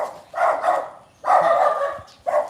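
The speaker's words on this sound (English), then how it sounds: "A lot of dogs out here." Dogs bark outdoors in the Philippines, three bursts of rough, fairly close barking with short pauses between them, heard alone without talk.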